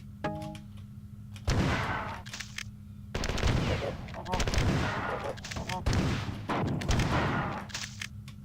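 Dual shotguns firing in the classic game Marathon 2, several heavy booming blasts in quick succession, each followed by a mechanical pump-like rack, loud and close with a voice talking between shots.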